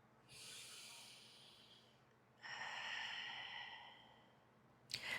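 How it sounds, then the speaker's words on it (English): Two long, deep exhaling breaths during a yoga practice for low back pain, each a soft breathy rush lasting about two seconds, close and quiet, with a brief sharper breath at the end. "Last breath right here."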